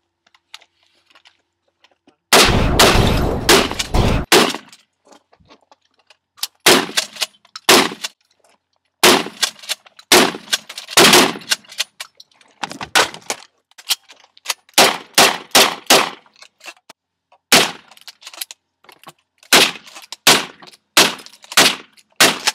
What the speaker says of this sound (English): We are now gonna shoot this TV.